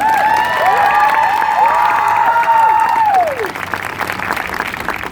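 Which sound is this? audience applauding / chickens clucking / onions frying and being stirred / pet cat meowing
audience applauding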